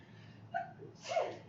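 A single sneeze in a quiet room, a brief sharp intake followed by a quick burst, faint and close.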